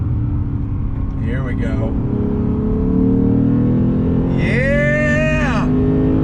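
A 2021 Lexus RC F V8 engine pulls hard in a steady mid-range drone, with a brief rising rev sweep near the end, heard from inside the car while a person talks over it.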